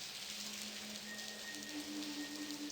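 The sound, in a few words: rain in video game Blackwell Convergence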